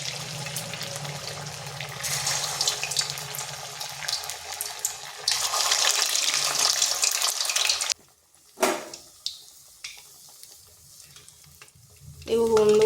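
Semolina batter frying in hot oil in a wok over medium heat, bursts of loud sizzling in the first half giving way to quieter crackles and clinks, with a faint higher tone at the end.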